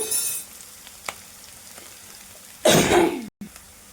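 Vegetables for veg manchurian frying in a hot pan, a brief sizzle at the start and a loud, bright sizzling burst near the end as the food is stirred or tossed.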